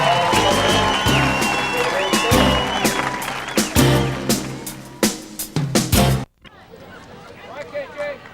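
Crowd applause ripples through the stands at a 1994 girls' high school Class AA softball championship game, a record crowd, with sustained clapping and cheering, fairly loud and dense, breaking off briefly before more scattered crowd noise.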